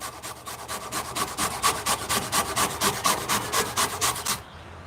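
Fresh turmeric root, skin on, grated on a Microplane grater: a close, steady run of about twenty quick rasping strokes in even rhythm, alone, ending abruptly.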